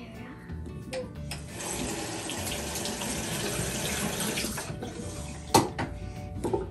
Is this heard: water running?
yes